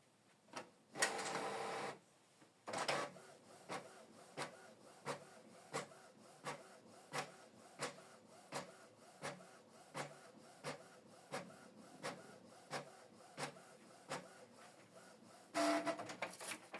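A Canon Pixma TS6550i inkjet printer prints a document, opening with two longer mechanical bursts of feeding, then a regular series of short, evenly spaced clicks and whirs as the head passes, ending in another longer feed burst.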